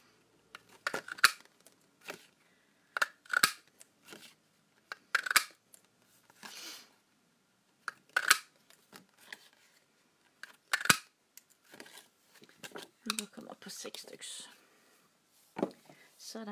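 Paper being punched with holes and cut into small round numbered tags for a prize draw, with repeated crisp scissor snips and rustles spaced irregularly, close and clear in a quiet room.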